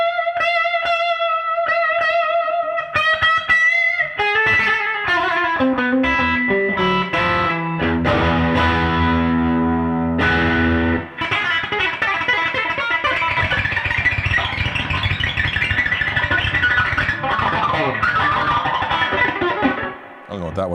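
Electric guitar played live through effects, with bright bending melodic notes, fast runs and thick distorted, chorused passages, loud and close over about twenty seconds.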